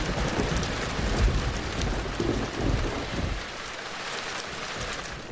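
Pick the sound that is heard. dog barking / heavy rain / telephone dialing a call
heavy rain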